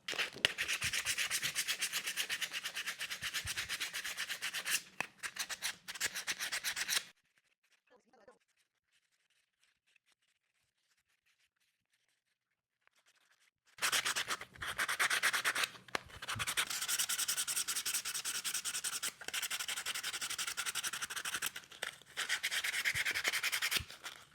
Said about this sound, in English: Let's do some hand sanding now.